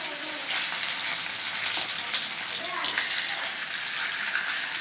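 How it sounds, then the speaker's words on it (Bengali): A fish piece and half a fish head fry in a pan, making a loud, dense, continuous sizzle that sounds close and steady, with faint talk underneath. "আমি দিয়ে দিচ্ছি মাছ, একটা পিস মাছ, আর সাথে দিয়ে দিচ্ছি একটা হাফ মাথা"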